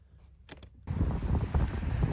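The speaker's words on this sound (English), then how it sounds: "it's a bit of a wet and windy day today" Gusty wind on a wet, windy day buffets and roars after a quiet start with a few light knocks, a loud broadband rush close to the microphone.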